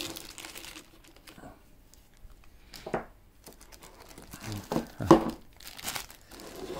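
Crinkly plastic wrapping rustles and crackles in irregular close bursts as an Emporio Armani AR1808 watch is unboxed and pulled from its bag, with brief louder crunches amid quieter handling.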